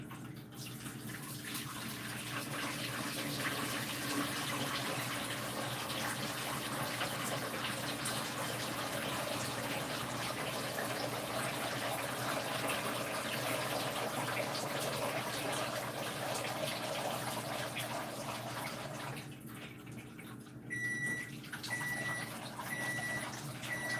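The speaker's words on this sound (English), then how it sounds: "I'm supposed to be able to dump all the water out" Water pours out of a pasta pot in a steady, continuous gush for about twenty seconds, then stops, followed by a few short electronic beeps from a microwave.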